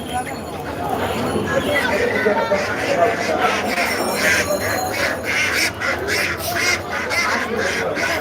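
Domestic ducks quack repeatedly at a local poultry market in Gobindaganj, a busy chorus of calls under continuous talk close by.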